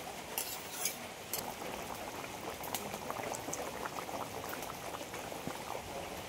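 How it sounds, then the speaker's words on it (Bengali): A thin fish curry of ridge gourd, potato and fried fish simmering in a pot gives off soft, continuous bubbling and gurgling at low volume, with a few faint clinks near the start. "সবগুলো একসাথে একটু 2 থেকে 3 মিনিট একটু ভালোভাবে ফুটিয়ে নেবো"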